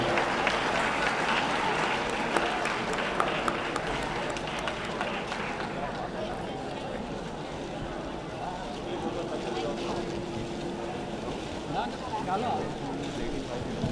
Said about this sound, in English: Can we have a round of applause for Mr. Harbans Singh?